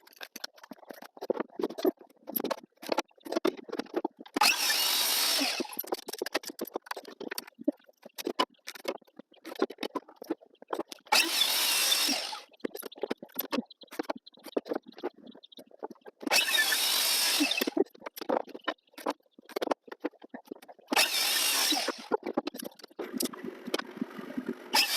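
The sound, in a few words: power tool cutting wood pieces for soap mold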